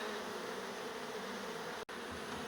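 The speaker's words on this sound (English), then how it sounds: "A lot of bees building up" Continuous buzzing of bees gathering on windows during a beehive relocation, dense and steady at low volume, with a brief dropout near the end.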